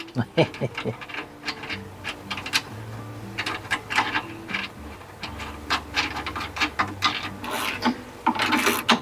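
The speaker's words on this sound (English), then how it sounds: "I'm just gonna get this as tight as I can with my hand and this ratchet" Hand ratchet tightening the bolts that hold a differential onto leaf springs, working corner to corner: a dense run of quick rasping clicks and scraping strokes, close and steady for the whole stretch, over a low background hum.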